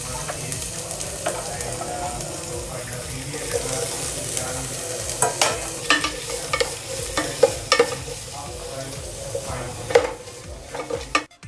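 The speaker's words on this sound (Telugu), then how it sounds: "మనము ఆనియన్స్ బ్రౌన్ కలర్ వచ్చేదాకా వేయించుకోవాలి." Onions frying in oil with cinnamon, cardamom, cloves, mace and bay leaf for chicken pulao: a steady close sizzle with stirring scrapes and occasional clinks of a spoon against the pot, growing busier toward the end.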